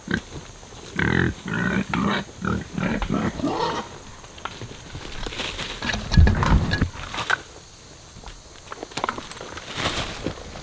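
Farm pigs grunt and snuffle busily while eating soaked feed, with repeated close grunts, footstep patter and scuffling throughout, no talking.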